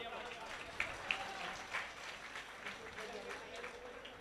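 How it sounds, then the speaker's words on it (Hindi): A crowd claps together in steady applause at a Radha Krishna temple gathering, a dense patter of hands with a few sharper claps standing out, mixed with voices. "आज तालियां बजाओ।"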